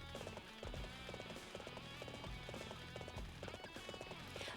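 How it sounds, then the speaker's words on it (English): Hooves of a horse galloping in a Battle of Jing Province story mission of a Dynasty Warriors-style game, a steady rhythmic clip-clop running throughout over dense battle ambience and low rumble. "The rhythmic sound of the horse running is very kind of therapeutic."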